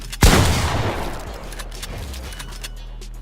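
A single loud shotgun blast in Fortnite, a sharp crack that trails off into a fading rumble, followed by quieter clicks and game ambience.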